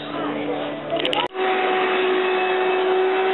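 Indoor vacuum cleaners, a wet vac and a Kirby, droning steadily, one motor hum cutting out abruptly and another taking over with a higher steady tone, with people talking over it.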